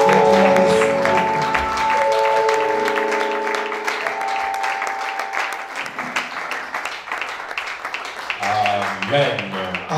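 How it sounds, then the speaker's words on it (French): A church congregation applauds, with broadband clapping running throughout over sustained keyboard or organ tones and some voices, loud and steady for the whole stretch. "Acclame Jésus-Christ"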